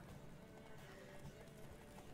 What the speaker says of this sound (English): What, don't you want to see me win this horse race?